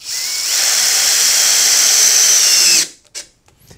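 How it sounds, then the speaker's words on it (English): A power drill on its speed setting 2 bores into wood for a hedgehog house, a loud steady whine holding for nearly three seconds before cutting off, followed by a few faint clicks and knocks. "Fast with the drill when drilling, so that's on its speed setting 2"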